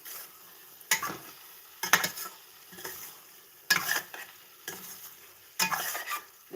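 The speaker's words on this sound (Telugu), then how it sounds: "మొత్తం మిక్స్ చేసేసుకొని" Egg tomato curry being stirred in a pan, with five or six distinct scraping strokes spaced about a second apart over a faint background sizzle; no voices.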